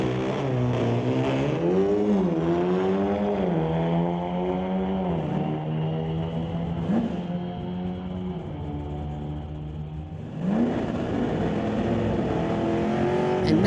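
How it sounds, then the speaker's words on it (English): Street-legal drag race between a 2017 Audi and a 2023 VW: a loud, continuous engine drone whose pitch rises and dips as the revs climb, with a gear-shift-like drop and a renewed surge near the end. "Going against Adam Blender in the 2023 VW called Snot Rocket"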